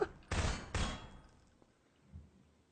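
Video game gunfire: two loud, close shots in quick succession, each trailing off in a short echo, followed by a faint dull thud.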